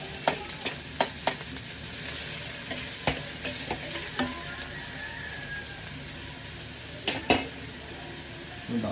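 Chopped onion sautéing with canned corned beef in a pan: a bright, steady sizzle with repeated scraping stir strokes and clanks of the spatula against the pan, close and fairly loud.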